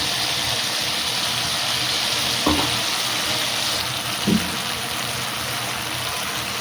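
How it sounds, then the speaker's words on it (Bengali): Ground spice paste frying with tomatoes in a pan for vegetarian biryani, a steady close sizzle throughout with two brief stirring scrapes, no talk. "আমি এবার এর ভিতরে মশলা দিয়ে দেবো, যে মশলাটা আমি বাটলাম।"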